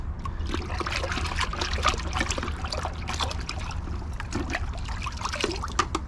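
Rinseless car wash liquid trickles steadily as it is poured into a bucket outdoors on a warm, breezy day, a continuous close dribbling splash with faint wind.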